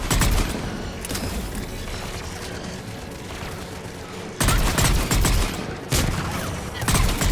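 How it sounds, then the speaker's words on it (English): Anti-aircraft guns in Mass Effect 3 firing rapid bursts, a dense rattling barrage that steps up in loudness partway through with sharp heavy blasts, and brief voices in the mix. "AA guns ahead."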